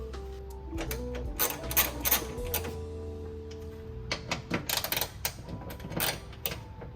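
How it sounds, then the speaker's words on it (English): Ratcheting and clicking of a tool unscrewing headlight bolts on an EK car, rapid mechanical chatter with metallic taps and whirs, close by, over a faint tonal hum. "So now we're gonna unscrew these two bolts."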